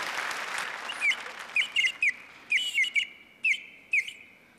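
Short bright whistle chirps from a Russian folk clay whistle sound in quick bursts, singles and pairs, over a quiet background, bird-like.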